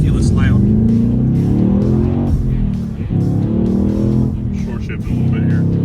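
A stock 2021 Ford Mustang Mach 1 with its 5.0 V8 pulls hard from inside the car, a steady deep exhaust drone rising through the gears with short shift dips, while people talk over it throughout.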